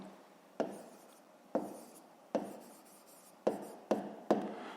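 Pen strokes on paper while working a fifth-grade maths exercise on apples by weight, six sharp scratching bursts each fading quickly, close and quiet, with no talk.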